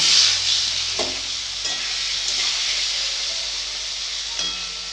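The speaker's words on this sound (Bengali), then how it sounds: "কড়াতে তেল দেব তেল গরম হয়ে গেছে মাছগুলো ভেজে নেব" Patia fish fry in hot oil in a wok (kadai), giving a steady, close sizzling hiss with faint stirring knocks and no talking.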